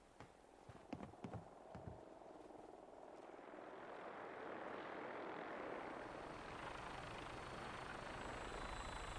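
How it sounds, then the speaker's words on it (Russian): A vertibird helicopter from the video game Fallout 4 comes in to land, with a few sharp clanks at first giving way to a rising, steady rotor and engine roar that grows fuller and louder. "Так, давай-ка вертушку сюда попросим приземлиться."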